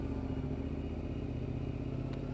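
Motorcycle passing on a city shopping street in Cardiff, a steady mid-distance engine drone with faint clatter over a constant traffic hum, no talk.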